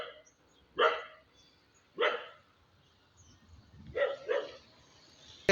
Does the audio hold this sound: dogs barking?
yes